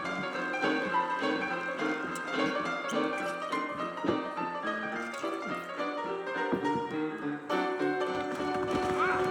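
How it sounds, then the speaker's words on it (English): Hooves clip-clop steadily at close range, with saddled horses snorting and an occasional whinny, over a continuous musical background in Red Dead Redemption. "I got the horses saddled up and ready out front."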